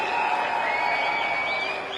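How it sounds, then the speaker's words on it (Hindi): Dense, steady applause from an audience welcoming a guest at a public event with Rahul Gandhi, holding at an even level for about two seconds before easing slightly at the end. "एक बार जोरदार तालियां हो जाए सर के लिए।"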